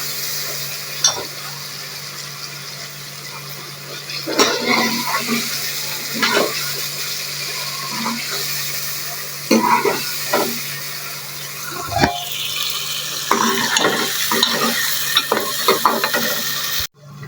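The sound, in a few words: stirring chicken curry with green chilies and tomatoes in a pan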